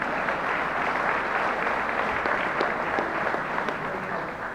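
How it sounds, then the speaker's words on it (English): Steady applause from a crowd at a coaches association awards banquet, a sustained wash of clapping at moderate distance without pause. "That's a big round of applause right there."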